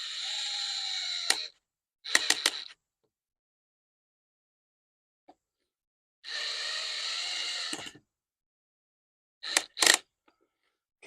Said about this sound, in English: With our longer little extension here, we can go ahead and drive these in the rest of the way.